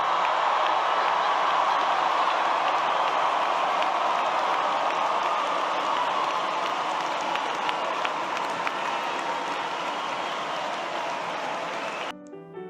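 A large crowd of Georgia Tech graduates cheers and applauds at their graduation ceremony, a dense, steady roar of clapping and shouting that holds for about twelve seconds before cutting off abruptly.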